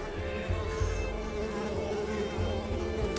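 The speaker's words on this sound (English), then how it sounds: "Stupid mosquitoes!" Mosquitoes buzz steadily in the video game Unravel, a close, continuous insect whine and drone that stays at an even level throughout, with no talking.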